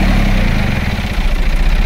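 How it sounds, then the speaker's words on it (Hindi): A John Deere 5310 tractor's diesel engine chugs steadily nearby, a low rumbling idle with a slight clattering rhythm and no talking. "उधर ट्रैक्टर की आवाज आ गई।"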